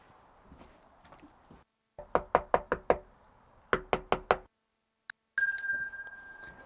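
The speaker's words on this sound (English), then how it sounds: "So I'm gonna try knocking it one more time." Knuckles rapping on the door of a vacant house, two crisp series of five quick knocks separated by a short pause, followed by a faint metallic clink and a high ringing tone.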